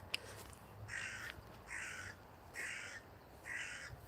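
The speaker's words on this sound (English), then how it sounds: "you can hear the crow there in the background" Outdoors, a crow gives four evenly spaced harsh caws in a steady rhythm, sounding faint and somewhat distant against a quiet background.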